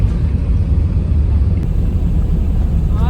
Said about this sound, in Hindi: भाग रहे हैं जहाज़ रनवे पे।